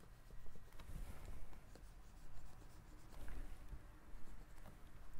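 A pencil draws lines on paper while sketching building forms in perspective, making soft, continuous scratching strokes that are quiet and close.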